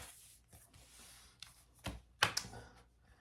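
Scissors cutting fabric to size for a scrappy handmade wallet, heard as a few quiet snips and rustles that end in a sharper burst of cutting near the close, with no talking.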